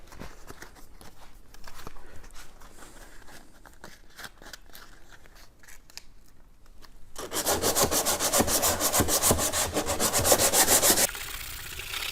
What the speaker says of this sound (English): We're just going to start sanding with the 180 to take out all these heavy scratches.